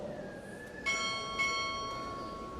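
Two ringing strikes of a ceremonial ship's bell at a Navy chief petty officer pinning ceremony, spaced about half a second apart, each with a bright, sustained metallic tone that decays slowly over a hushed room.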